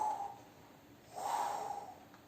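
A sharp breath during a bodyweight exercise in a full-body home workout using a sofa, two breathy bursts, the second longer and stronger, close to the mic with no talking.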